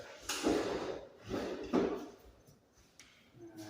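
A table drawer slides open or closed during a junk removal clean-out of a senior living apartment, giving two or three rumbling, scraping strokes at close range with no one talking.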